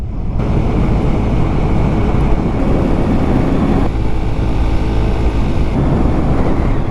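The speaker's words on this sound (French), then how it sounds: "j'ai tout le joli bruit d'échappement de la moto dans les oreilles" A motorcycle ridden solo on an open road, its exhaust rumble buried under heavy, continuous wind roar buffeting the microphone, steady and loud with no voices.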